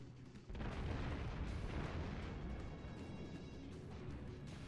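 Warship guns firing in the naval video game World of Warships: after a short lull, a heavy booming blast swells into a loud, continuous rumbling roar that carries on steadily to the end, with no speech.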